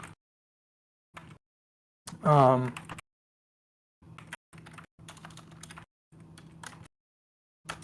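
Computer keyboard typing in short bursts of clicks spread across several seconds, with one louder gasp-like burst near the start and quiet gaps in between.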